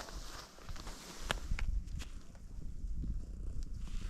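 Low, rumbling cat purr close by, with soft shuffling and scattered clicks and thumps around it.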